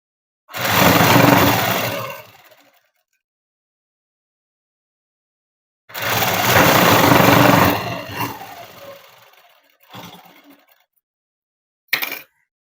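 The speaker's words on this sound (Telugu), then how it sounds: "చివర అనేది కుట్టు వేసేస్తున్నాను నేను." A sewing machine stitches the end of a child's dress for a six-to-seven-year-old, made from a saree, in loud, close motor bursts: two long runs, then shorter spurts and a final brief blip.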